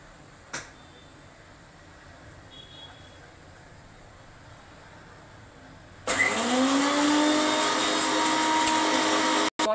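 An electric spice grinder whirs into a loud, steady roar as it powders dry-roasted whole spices, including black peppercorns, after a stretch of quiet room tone with a faint click.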